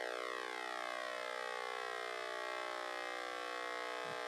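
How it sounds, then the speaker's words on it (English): Synthesizer pulse oscillator with pulse width modulation sweeping, a steady loud buzzy tone whose harmonics glide and shift continuously throughout, heard alone. "So what you're doing is you're changing the pulse width modulation"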